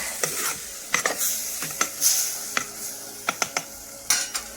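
A spoon stirs cooked bottle gourd curry as curd is mixed in, with scraping strokes and sharp clinks against the pot in an irregular rhythm over a soft sizzle, close and moderately loud.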